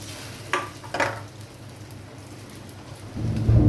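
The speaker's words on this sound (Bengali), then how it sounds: "এবার বাকি পাউরুটিগুলো আমি এইভাবে ভেজে নেব।" Remaining slices of bread frying in a pan make a soft, steady sizzle. A couple of brief clinks come early on, and a louder burst of crackling rises at the end.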